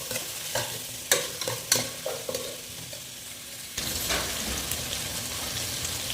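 Mutton, drumstick and potato curry masala sizzling in a pan, with a spoon scraping and stirring in irregular knocks and swishes over a steady, close frying hiss.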